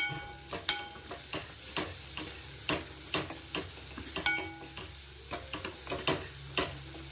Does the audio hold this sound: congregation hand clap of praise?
no